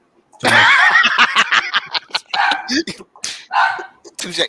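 A dog barks and yips close by in a busy stretch of sound, mixed with laughter and talking voices, the barks coming in quick irregular bursts.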